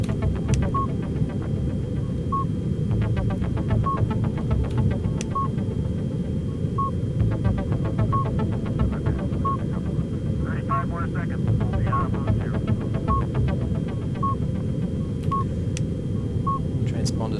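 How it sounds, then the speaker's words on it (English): A cargo container's transponder in the Lunar Flight game beeps in short, evenly spaced tones that come faster over time, heard over a steady low engine hum with a voice talking. "Transponder's rate is increasing."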